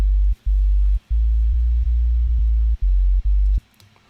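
Deep hip hop sine-wave sub bass synth in Ableton, playing a choppy line of sustained low notes with short gaps between them, loud and clean, ending in near silence.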